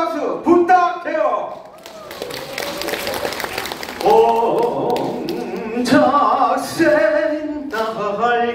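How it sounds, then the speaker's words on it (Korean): An audience bursts into applause for a contestant at a Korean TV singing contest preliminary audition, a dense burst of clapping in the middle framed by loud talking from a host before and after. "뜨거운 박수"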